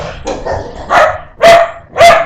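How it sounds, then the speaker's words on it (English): Dogs bark and scuffle nearby in loud, bursty yelps and barks, with about four sharp outbursts in quick succession and a brief growling, whimpering texture between them. "No dog fights, you guys. Be nice."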